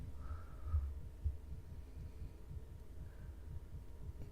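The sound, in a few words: fast heartbeat from video game Pathologic 3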